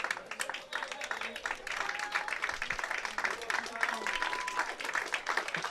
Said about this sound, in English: Gets an applause.